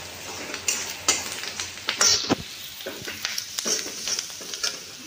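Chili powder, turmeric and salt sautéing in a pan, with frequent scraping stirs and utensil clicks over a steady sizzle, close and fairly loud.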